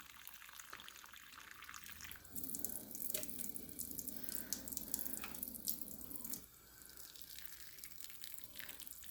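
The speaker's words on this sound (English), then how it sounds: "I just make a pool of water on the top and then let it drain through." Water runs steadily onto potting soil in a fuchsia container, a soft close splashing and trickling pour of about four seconds between quieter dripping.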